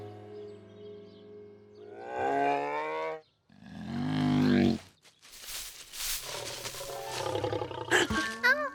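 A cartoon bear gives deep roars and growls that rise and fall in several loud bursts, with rough grunting and noisy rustling close by.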